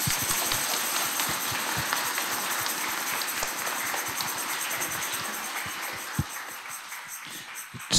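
An audience applauds after a Christmas nativity play in Trześnia, with steady, dense clapping that continues throughout and eases slightly toward the end.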